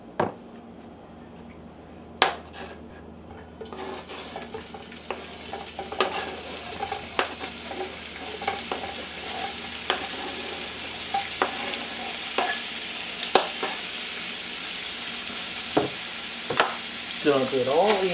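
Food browns in a hot skillet with a little olive oil for kale soup, giving a continuous sizzle broken by frequent scrapes and clacks of a utensil stirring against the pan, close up.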